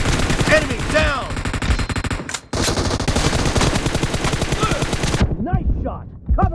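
Automatic weapons fire in PUBG during a team deathmatch, with rapid loud bursts of gunshots that cut off briefly, resume for several seconds and then stop.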